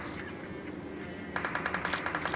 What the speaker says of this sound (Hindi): इसी बीच कुछ फायरिंग की आवाज़ आती है